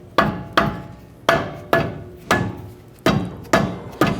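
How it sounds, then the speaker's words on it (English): A mallet taps around the edge of a brake rotor on a Toyota Tundra during parking brake shoe work, eight sharp metallic knocks spaced unevenly over a few seconds, close and distinct with short ringing decays. "I'm going to use my mallet here and tap this, and I'm going to work my way around the edge as well"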